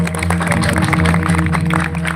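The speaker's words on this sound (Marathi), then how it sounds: "आमच्या बाल कलाकारासाठी टाळ्या वाजव सर्वांना" Village audience clapping for a child performer at a devotional kirtan gathering, a dense, loud burst of applause with tones of music ringing underneath.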